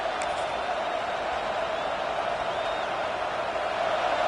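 A steady, distant wash of crowd noise at a football game, a constant murmur and roar filling the stadium without distinct cheers, heard at moderate level with no clear foreground sounds.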